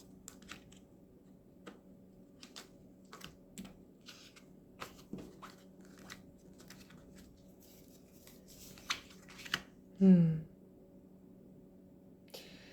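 Tarot cards being cut and shuffled indoors: soft, sparse papery taps and flicks spaced out at irregular intervals, with a quiet steady hum underneath and a brief louder rustle near the end.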